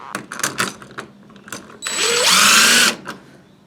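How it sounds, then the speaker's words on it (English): An impact driver drives screws into a standard light switch, a short loud whirring and rattling burst of about a second after a few light clicks and handling taps, close and alone. "we're just going to use an impact driver to speed things up"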